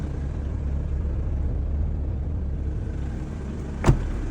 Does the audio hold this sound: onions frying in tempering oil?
no